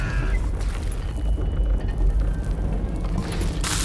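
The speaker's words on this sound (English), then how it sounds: "All it takes is one tiny spark, and boom." A deep rumbling explosion in the Western shooter game Call of Juarez Gunslinger, a sustained low boom with crackling debris rolling on for several seconds, loud and continuous with no voices.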